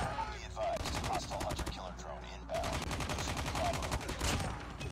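Rapid automatic fire from the BK57 rifle in Call of Duty Mobile, two fast bursts of tightly spaced shots separated by a brief pause, fairly loud and close with faint talk underneath.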